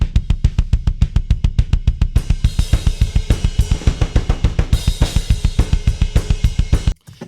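Fast double-kick drum pattern from a song mix, close mic tracks blended with kick samples, a steady rapid stream of punchy low thumps with sharp clicky attacks, played alone, stopping abruptly near the end.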